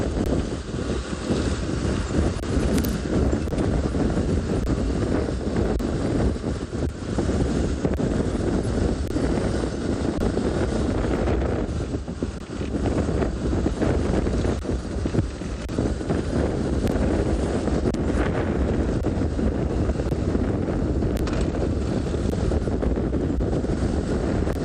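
Wind blowing during an afternoon safari drive in South Africa, heard as loud, constant rumbling gusts that buffet the microphone throughout.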